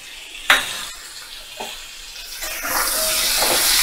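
Ginger garlic paste hits hot oil in a pan while cooking pumpkin with shrimp, a couple of sharp clinks and stirring scrapes giving way to a steady, rising sizzle that fills the last seconds.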